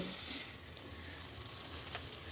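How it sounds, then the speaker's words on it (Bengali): Pangasius fish pieces frying in very hot oil, a soft continuous sizzle with faint crackles, fairly quiet and steady. "কড়া গরম হয়ে গেছে তেল দিয়ে মাছগুলো দিয়ে দিলাম সেই সাথে একটু মাছের তেলও দিয়ে দিলাম আর মাছগুলো খুব কড়া করে ভাজতে হবে"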